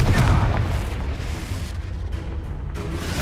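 Confringo fire spell blasts in the Hogwarts Legacy game, a heavy booming explosion at the start that rolls into a sustained low rumble and crackle for a few seconds.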